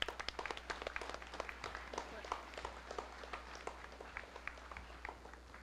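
Graduates at a high school graduation ceremony clap for the staff and decoration committee, a faint, distant patter of scattered hand claps with an uneven rhythm over a low background hum.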